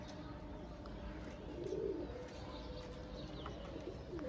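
A pigeon coos softly among a crowd of birds at a busy pigeon market, a low murmuring call under steady background noise and faint distant chatter.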